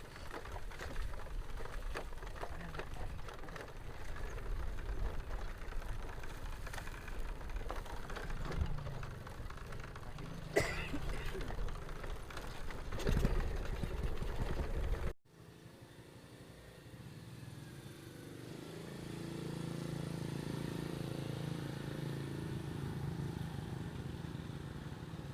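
A motorcycle engine idles and revs nearby for about fifteen seconds, with a few sharp knocks over the running engine, then cuts off abruptly before a steadier, fainter motor drone takes over.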